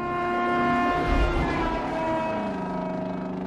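A car horn blares in a long, steady, loud tone from a scene in the film Breakdown, with a low rumble beneath it and no talking.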